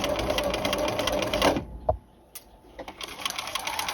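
A sewing machine runs in a steady, rapid whir while stitching collar and lapel facings, stopping abruptly partway through, followed by a few soft handling clicks and near silence.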